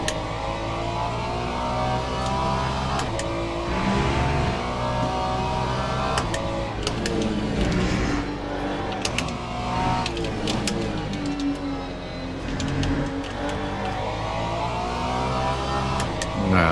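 A Ferrari GT3 race car in a racing video game holds a loud, steady engine roar throughout, with revs climbing and falling through gear changes and brief sharp bursts layered over the continuous drone.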